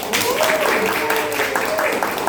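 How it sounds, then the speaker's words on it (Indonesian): A classroom of students applauds a classmate named Waldi, a brief burst of many hands clapping together with voices mixed in. "Kita berikan tepuk tangan untuk Waldi"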